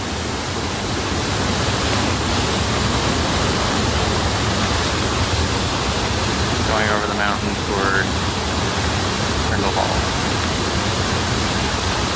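Steady, loud broadband roar of a rushing river beside water-control gates near Interlaken, Switzerland, fills the scene throughout, with a person speaking briefly over it partway through.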